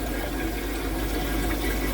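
Water drains from filter media poured out with a jug, a continuous rushing, gurgling flow, steady and moderately loud throughout, with no talking.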